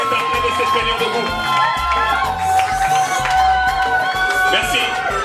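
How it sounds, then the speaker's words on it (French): Guests at a Congolese wedding reception in Dallas cheer and whoop loudly as a woman stands, crowd noise and shouting layered over loud background music throughout. "Sous nos acclamations, Maman Rosiane est en train de se tenir debout."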